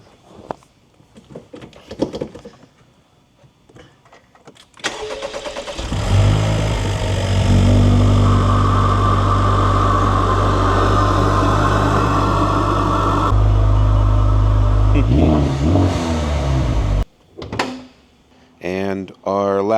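A 2024 Acura Integra Type-S engine cranks and fires, then settles into a loud, steady idle that holds for several seconds. Faint workshop sounds come before the start, and some clatter and voices follow once it stops.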